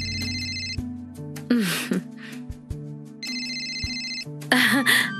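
A mobile phone rings in a home setting, repeating its electronic ringtone in bursts, with short gasps and brief vocal sounds between the rings.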